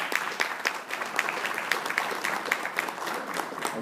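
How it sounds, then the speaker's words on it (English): Steady applause from a conference keynote audience, many hands clapping at once with sharp individual claps standing out, moderately loud and without talking. "I'd like you to give them all a round of applause."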